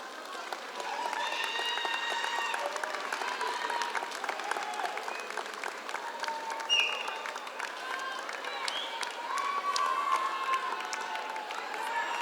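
Graduation ceremony crowd giving a long round of applause, steady dense clapping with scattered cheers and shouts, heard at a moderate distance and sustained without a break.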